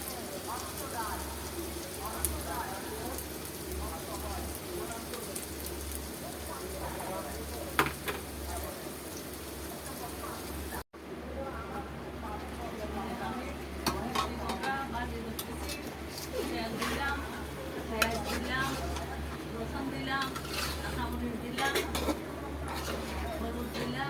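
Pumpkin pieces frying with chili in a home kitchen pan, a steady soft sizzle running throughout beneath continuous talking, with a brief dropout midway.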